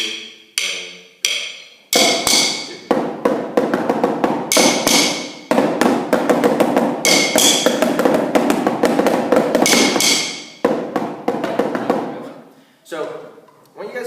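A snare drum duet, one player taking a one-hand part, rattles out crisp rapid strokes and accented hits in bursts, loud and close, with short pauses between phrases.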